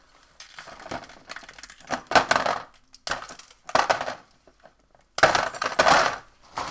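Ice cubes poured and tumbling into a plastic Tupperware tub, bursts of rattling, clattering cubes in several separate loud pours with short pauses between.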